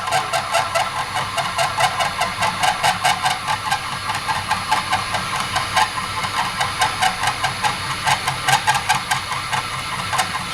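A metal lathe runs slowly at 280 RPM, giving a steady mechanical hum with a regular rhythmic clatter and hiss repeating several times a second, loud and close, with no talk.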